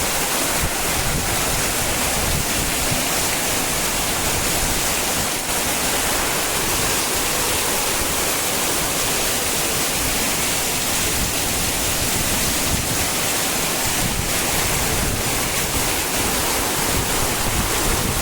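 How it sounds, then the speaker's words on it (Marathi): Heavy first monsoon rain pours down in a Konkan village, a dense, steady roar with gusting wind, loud and continuous throughout without any voices. "आता जोरात पाऊस"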